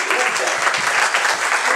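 Congregation applause during a bilingual church sermon, dense clapping from many people, loud and continuous, with a voice speaking over it.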